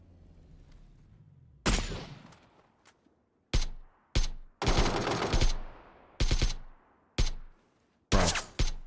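AK rifle fire in PUBG breaks out in loud, sharp automatic bursts, several separate volleys close together with short silent gaps between them.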